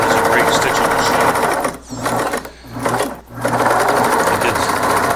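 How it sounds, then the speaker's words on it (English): A vintage Singer Stylist 533 free-arm sewing machine stitches with a steady, fast mechanical whir, stopping briefly twice before running on, loud and close. "The machine is a great stitching machine."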